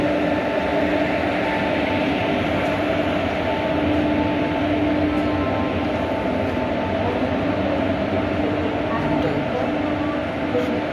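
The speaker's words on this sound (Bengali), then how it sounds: "রূপসী বাংলা এক্সপ্রেস সাঁতরাগাছি।" The Rupashi Bangla Express at Santragachi station gives off a loud, steady rumble that holds without a break from start to finish.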